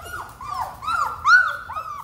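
Puppies whimper close by in a run of high, wavering whines that rise and fall, one after another with brief gaps.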